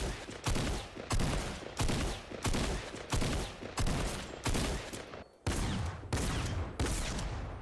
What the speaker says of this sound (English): Typical tac shotgun sound.